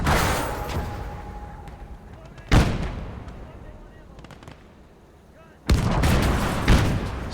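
Tank cannon shots in the snowy World War II battle game Gates of Hell, two loud booming blasts with long rumbling decay amid distant battle noise, under someone talking.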